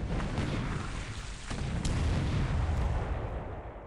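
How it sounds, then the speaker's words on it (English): Battleship bombardment in the War in the Pacific strategy game, a dense continuous roar of artillery fire with rumbling booms layered throughout, loud and sustained without pause. "this is the bombardment then, and he's bringing in the battleships here"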